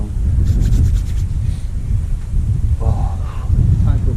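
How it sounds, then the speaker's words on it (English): Raw winter wind blows outdoors by the Norfolk Broads during a fishing trip, buffeting the microphone with a loud, gusty low rumble that runs throughout, along with brief bits of voice and handling noise. "That wind's picking up again. That wind is raw."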